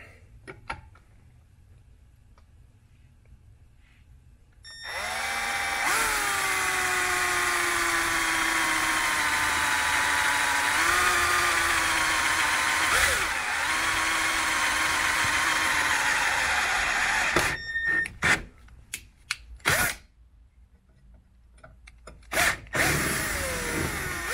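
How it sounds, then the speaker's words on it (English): A power drill whines steadily and loudly through metal for about twelve seconds, its pitch wavering slightly, then stops with a few short bursts and clatters. "we're going to go ahead and drill through that guy"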